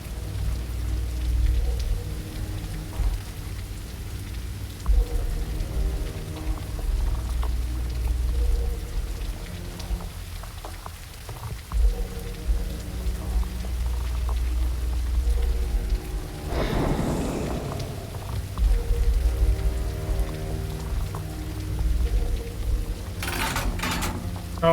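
Steady heavy rain hisses and patters through a grim fantasy scene in the game Bleak Faith Forsaken, continuous and close, with a brief swelling rumble partway through.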